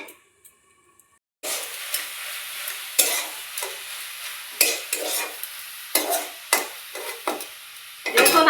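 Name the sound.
bottle gourd with chilies cooking in pan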